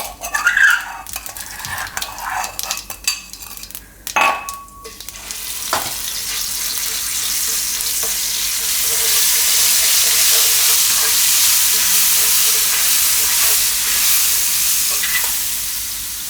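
Cumin seeds and finely crushed garlic dropped into hot oil on a low flame for a carrot and tomato curry: some clinks of utensils on a pan first, then a steady, loud hissing sizzle that swells and holds.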